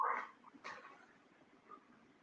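A dog gives two short, muffled barks or yips, near and fairly faint, then falls quiet.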